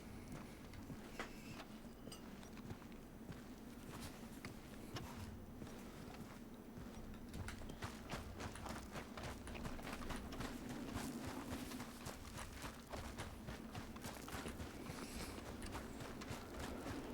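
Steady rapid clip-clop of horse hooves running across ground in Red Dead Redemption 2, continuous and fairly close, with no talking.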